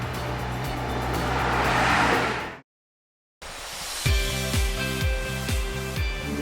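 A BMW Z4 sports car engine builds steadily for a couple of seconds before a brief cut of silence, then the car returns with repeated pulsing revs as it is driven hard.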